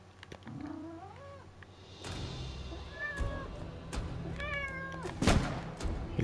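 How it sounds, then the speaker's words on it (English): A pet cat meows several times at close range, its rising and falling calls repeated across the stretch, over faint indoor background noise with occasional light thumps. "You can hear my cat."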